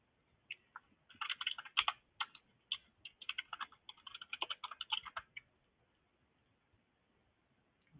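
A computer keyboard clatters in quick, light bursts of keystrokes for several seconds, close but quiet, with a pause in the middle and no voices.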